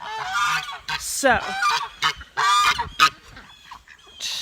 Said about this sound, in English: looks like the birds found a snake. They're trying to keep me away from it.